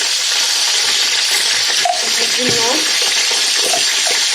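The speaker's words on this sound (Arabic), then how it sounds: "وهننزل بالبصل بتاعنا كله" Onions go into a hot pan during a crab dish, and a loud, dense sizzle fills the whole moment. A brief murmur of voice sits underneath the frying.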